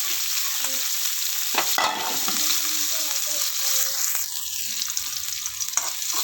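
Chopped onion and green chilli crackle in hot coconut oil with a bright, constant sizzle, broken now and then by the scrape of a stirring spoon against the pan.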